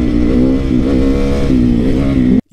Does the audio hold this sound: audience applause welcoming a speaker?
no